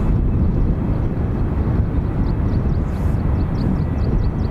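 A Lauda jet flying under a Ryanair call sign departs Dublin Airport for Vienna with a steady, fairly loud engine roar throughout, alone with a few faint high chirps in the background.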